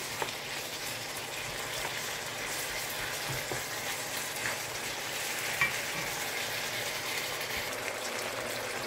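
Marinated beef for a stir-fried noodle dish sizzles steadily in a hot wok, a dense, even crackle and hiss that runs unbroken from start to finish with no one talking.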